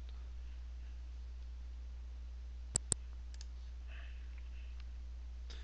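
Two quick mouse clicks close together on a Buy Now button, sharp and near against a steady low electrical hum, otherwise quiet.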